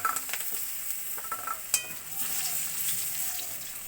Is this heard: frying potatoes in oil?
yes